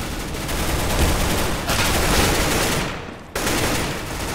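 Dense broadband burst from a Counter-Strike round on Dust2, where a flashbang grenade is thrown amid gunfire; the loud noise holds steady for several seconds, breaks briefly, then resumes.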